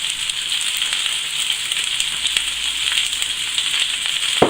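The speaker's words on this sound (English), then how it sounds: "Turn the cooker down because the oil is starting to splatter." Chicken frying for fajitas in extra virgin olive oil, with a dense crackling sizzle and sharp pops of spattering oil, close and steady throughout, without any voices.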